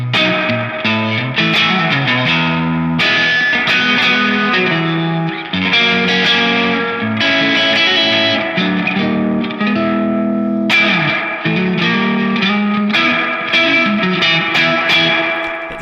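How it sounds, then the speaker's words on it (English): Distorted electric guitar chords and riffs played continuously, drenched in lush, splashy spring reverb with long ringing tails between phrases. Played through a Zaphod Overdrive pedal and an Otter's Pocket Reverb pedal. "So I've got a true spring, which is about as posh as it gets for spring reverb"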